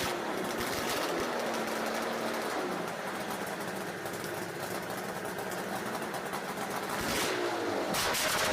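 A vintage two-stroke engine runs steadily and loudly up close, a dense buzzing drone that holds without pause and swells briefly near the end.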